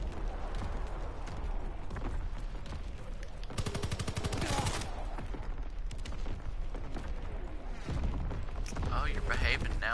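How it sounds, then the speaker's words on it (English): An incoming enemy artillery strike in a combat video game: a dense, rapid burst of blasts and crackling fire erupts midway, surrounded by booming impacts and ongoing battle noise, with radio-style voices heard in the mix. "Incoming enemy artillery."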